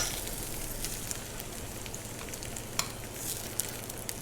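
Pre-cooked assorted mushrooms caramelize in a hot frying pan in a restaurant kitchen, giving a dense, steady crackling sizzle with occasional sharper pops, close and moderately loud.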